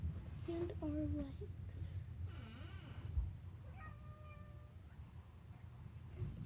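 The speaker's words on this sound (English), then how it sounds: "If you're wondering what the meowing is, it's just my sister picking up the cat." A pet cat meows several times while being picked up, giving short rising and falling cries close by over a low background rumble.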